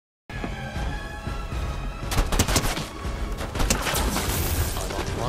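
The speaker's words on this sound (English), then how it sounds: "somebody's shooting me in the back" Gunfire in the battle-royale shooter Fortnite: a steady roar of action with repeated sharp shots and bursts that grow denser partway through, loud and close, with a faint voice at times.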